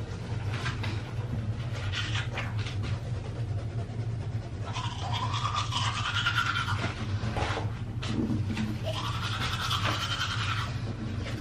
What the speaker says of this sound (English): Just cause I got some little electric toothbrush